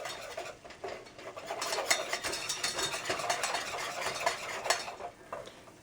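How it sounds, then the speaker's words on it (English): Butter, olive oil and flour whisked together in a pan for gravy, a quiet, rapid, continuous scraping and rustling of the whisk with faint sizzle underneath. "Then we're going to add 2 tablespoons of flour, and we're going to whisk that together"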